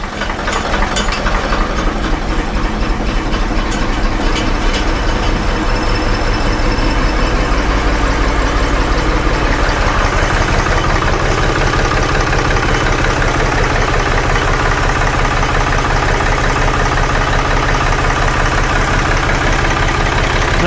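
The engine of a 1975 Ford 550 backhoe idles a little low, a loud, close, steady diesel rumble with a continuous rhythmic chug and no pauses.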